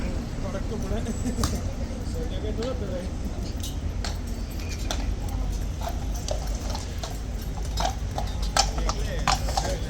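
Horses' hooves clip-clop steadily across a stable yard, a busy run of hoof strikes with voices and general yard noise underneath.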